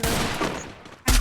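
Desert Eagle pistol fire in the Counter-Strike video game: loud close gunshot bursts with echoing tails, ending in one sharp heavy blast.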